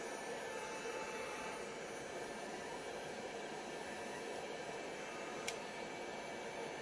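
Heat gun running on its low setting while warming resin for ocean-wave coasters, a steady close airy whoosh and hum with one brief click near the end, no talk.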